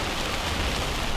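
Heavy rain drums steadily on a moving car on a waterlogged road, a dense, even hiss with a low rumble underneath and no voices.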